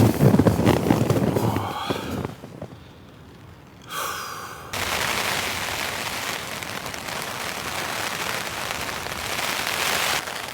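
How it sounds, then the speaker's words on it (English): Steady, dense rain patters on a thin tent during a camping storm, a close, even hiss after a brief quieter stretch with a soft breath, continuing without talk. "Just been lying down listening to the rain. It's been pretty steady."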